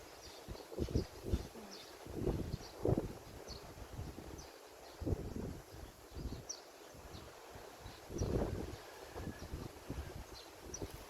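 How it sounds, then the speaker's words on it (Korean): Wind blows outdoors in the rural countryside of Goheung, South Korea, in uneven low gusts buffeting the microphone, with faint rustling and occasional distant bird chirps between the gusts. "바람 불고"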